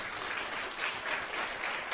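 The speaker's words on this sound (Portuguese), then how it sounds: "Dê uma salva de palmas para Jesus." A church congregation claps in a soft, continuous wash that rises and falls slightly, distant and fairly quiet, with no clear individual claps.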